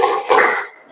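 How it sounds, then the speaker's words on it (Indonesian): A group spirit clap (tepuk semangat) gives a couple of quick, sharp hand-clap bursts in a short rhythmic pattern, close and fairly loud, with no talk. "Oke, tepuk semangat."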